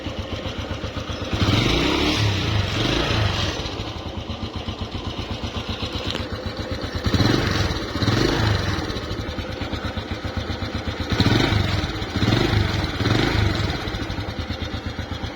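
A 1985 Honda Astrea 800 motorcycle engine runs steadily close by, its rough old-bike putter swelling in three louder surges of revving between stretches of idle, with no talk over it.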